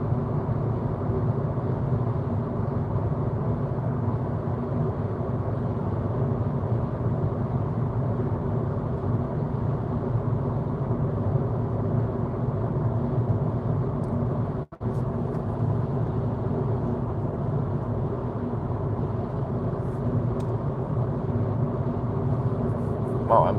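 Interior noise inside a VW e-Golf 24 kWh electric car at highway speed, a steady low broadband road and wind rumble that stays constant throughout, with one brief dropout near the middle and no speech heard.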